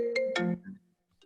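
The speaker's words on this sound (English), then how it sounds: "my phone ringing through my computer" A phone ringtone plays through a computer during an online meeting, a few bright melodic tones in quick succession that fade, then one short chime.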